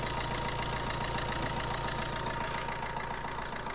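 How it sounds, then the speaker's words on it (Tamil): A 2009 Fiat Linea petrol car engine idles steadily with the bonnet open, a continuous low hum with a faint knocking texture and a thin high whine, heard close up and alone for a few seconds. "இப்போ வண்டியோட இன்ஜின் நம்ம ஸ்டார்ட் பண்ணிட்டோம், பானட்டும் ஓப்பன் பண்ணிட்டேன்."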